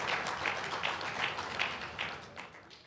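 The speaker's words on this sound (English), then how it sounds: "Please give them a round of applause." Steady applause from a forum audience, a dense wash of many hands clapping together, fairly distant and continuous throughout.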